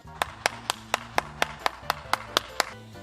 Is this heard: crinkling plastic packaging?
no